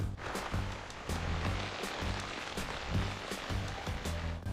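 Rain patters steadily on a plastic polythene sheet spread over outdoor pool construction, with a dense hiss and rhythmic drips and thumps on the surface throughout.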